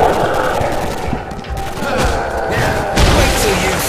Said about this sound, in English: Dual burst pistol.